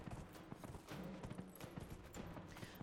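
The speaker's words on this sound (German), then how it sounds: "Hopp, hopp, hopp, Pferdchen, schneller." A horse gallops in the Dragon Age Inquisition video game, its hoofbeats clopping in a quick, steady rhythm, fairly faint and heard alone.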